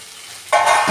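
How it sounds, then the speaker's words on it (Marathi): Peas and tomatoes frying in a pan for a quick vegetable pulao over a high flame. A quiet stir comes first, then a loud, steady sizzle with no talk. "आता हे फ्राय करत राहूया."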